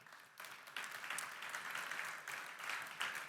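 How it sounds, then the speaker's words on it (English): Audience applause for media and community partners on a main stage, a soft start that swells into sustained, even clapping from a sizable crowd, slightly distant and with small surges. "I would like to give them a quick round of applause because it is very well deserved."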